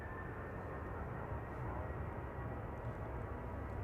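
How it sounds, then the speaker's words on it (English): A Lufthansa Airbus A350-900 airliner passes over Manchester Airport, producing a faint, steady low engine roar with no clear rise or fade. "there's also a Lufthansa A350-900 going over"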